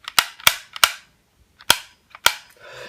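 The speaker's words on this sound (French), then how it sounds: "donc les gâchettes. Et je sais pas si vous entendez le bruit" Triggers on an Xbox One controller click sharply five or six times, close and loud, in a quick irregular run with short gaps, then a faint rustle of handling.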